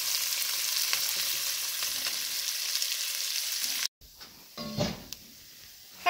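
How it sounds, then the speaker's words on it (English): Onion and garlic fry with meat for an Irish stew, a loud, even sizzle for about four seconds, then it cuts off abruptly and gives way to quieter kitchen clatter. "we added an onion. We cooked that till translucent, and we added a couple tablespoons of garlic."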